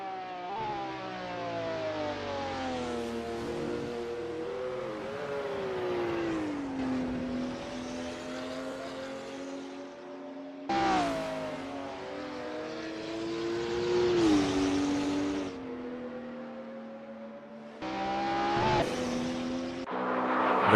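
A race car on a practice flying lap in the Assetto Corsa sim racing game, its engine whining steadily and rising through the gears with sharp shift breaks, loud and continuous throughout.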